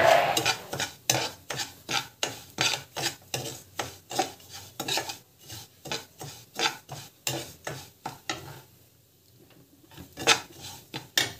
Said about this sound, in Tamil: இது வந்து வறுத்துக்கோங்க. நல்லா வந்து ஃப்ரை ஆகும்